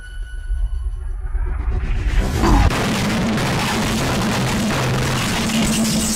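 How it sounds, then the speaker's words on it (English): A cannon fires: a heavy deep boom erupts and rolls into a long, noisy rumble that fills the rest of the clip, loud and close. "Cannon!"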